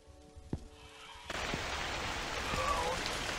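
Rain in a night-shift convenience store horror game starts abruptly partway through, a steady hiss of falling rain that continues to the end after a few sharp knocks earlier.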